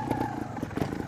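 A Sinnis Terrain 125 motorcycle pulls along an off-road track in first gear, its small engine giving a brief, steady, moderately loud burbling thrum.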